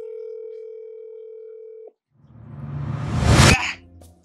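A steady telephone ringback tone hums for about two seconds while a call is placed, cuts off, then a loud rushing burst of noise swells and drops away.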